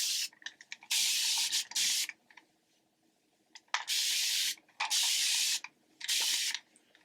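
A spray bottle sends even mists of water onto dry hair in about six bursts, each a loud, breathy hiss lasting about half a second to a second, with quiet gaps and soft handling noises between them.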